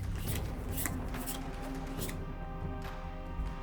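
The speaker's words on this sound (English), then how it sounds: "You should shuffle your deck." A deck of cards for the Genesis: Battle of Champions card game is shuffled up close, a run of crisp riffling bursts with short gaps between them.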